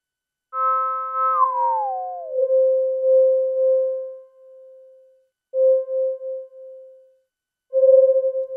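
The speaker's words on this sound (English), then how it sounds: "You can get this really beautiful kind of beating between the two tones." Two steady electronic tones from a Vongon Replay virtual analog synthesizer, one sliding down in pitch to settle near the other, producing slow pulsing beats that swell and fade in separate phrases.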